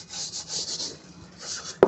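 Steady rasping scrub of a pad against a frying pan caked with burnt crust, continuous rubbing strokes close up, ending in a sharp knock, with no talking.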